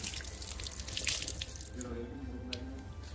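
Water from a tap pours and splashes over a Samsung T7 Shield portable SSD, steady hissing flow with drips, fairly close, easing slightly toward the end.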